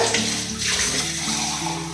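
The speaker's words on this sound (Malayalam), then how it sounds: "ഇനി കുറച്ച് വെള്ളം കൂടെ ചേർത്തിട്ട്" Water poured into a pot of raw papaya and lentil curry, a close continuous gushing splash with a rising pitch as the pot fills, heard alone for about two seconds.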